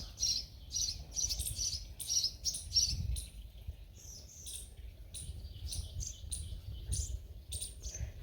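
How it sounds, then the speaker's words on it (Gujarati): Sparrows chirp and twitter in repeated bright bursts on a village morning, steady close-range calls over a low background rumble, with no one talking. "અહીંયા બધે ચકલાનો કલરવ સંભળાય છે"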